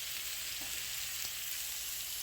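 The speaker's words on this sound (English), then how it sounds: "We're going to cook these shrimp for about 5 to 6 minutes" Shrimp frying in a pan for enchiladas, a steady soft sizzle with faint crackles, no voices.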